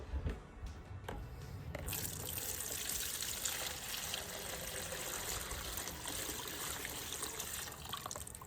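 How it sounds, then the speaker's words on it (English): Homemade sloe gin trickles steadily through a fine sieve, a continuous close liquid pouring sound that follows a few brief handling knocks and carries on alone without talk. "Now I'm going to go through a much finer sieve"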